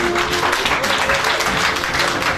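Wedding guests applaud to welcome the champagne onto the dance floor, a dense, continuous burst of many hands clapping close by.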